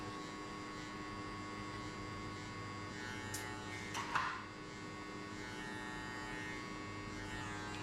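An electric hair clipper cuts a low taper fade with a steady, close, humming buzz that runs throughout, broken briefly by a few soft scrapes and bumps midway.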